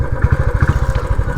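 A motorcycle engine idles close by in a rural village, a steady, loud low thumping with an even rhythm and no voices over it.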